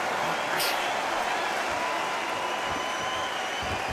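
A boxing arena crowd at the Benavidez vs. Canelo fight keeps up a steady, loud roar of cheering and chatter, with a brief burst of applause near the start and no break throughout.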